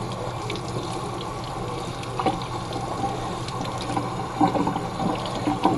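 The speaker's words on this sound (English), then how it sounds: "And I give him a real quick rinse in some cold water." Running tap water rinses a freshly skinned and cleaned quail, including its gut cavity, in cold water; a steady, close splashing wash with small bursts of louder spatter toward the end, no talk.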